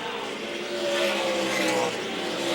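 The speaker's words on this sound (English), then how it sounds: "Kenny runs in the 6th spot in that Federated Auto Parts Dodge" ARCA Series stock cars, including a Dodge, racing at the 2008 Hantz Group 200, a steady engine drone with a rising and falling whine as cars pass, under faint commentary.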